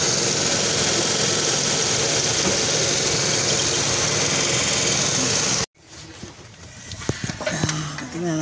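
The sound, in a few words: car engine idling during thermostat check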